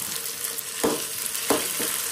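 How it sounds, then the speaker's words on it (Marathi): Tomato fries with onions in a pan in a small village home kitchen, giving a steady soft sizzle with three or so brief stirring scrapes. "टोमॅटो पण चांगलं फ्राय करून घ्यायचं त्याच्यात"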